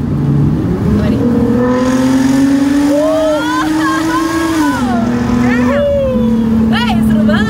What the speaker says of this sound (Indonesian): Jadi kalau kita ngomongin teknis mesin ini tuh silindernya ada 6. Oke. Dan dia jalannya tuh nge-V.